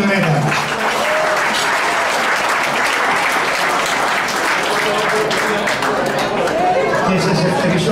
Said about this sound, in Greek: Ένα πολύ δυνατό χειροκρότημα για το ΡΕΝΤΑ μας